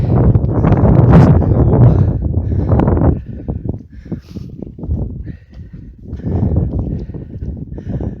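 Strong gusts of wind on a steep hillside buffet the microphone in loud, rumbling bursts that ease and return, with some rustling underneath.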